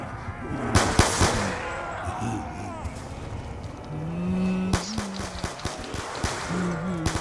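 Rapid gunfire from an inaccurate gun in the video game Black Ops 2 (Buried map), with sharp bursts of shots near the start and again later, over in-game engine rumble and background effects.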